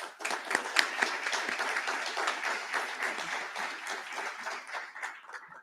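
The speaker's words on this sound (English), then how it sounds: "Please join me in giving our local healthcare heroes a round of applause." Audience applause for local healthcare workers at the 2021 Suffolk State of the City Address: a steady wash of many hands clapping at moderate level, continuous for several seconds and tapering slightly at the end.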